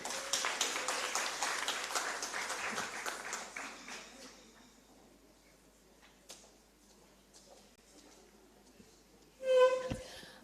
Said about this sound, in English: Another round of applause for Michelle.